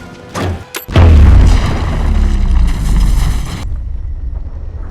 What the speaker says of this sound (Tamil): லாக் ஆயிருக்கிற டோரை பாம்பு வச்சு வெடிக்க வைக்கான்.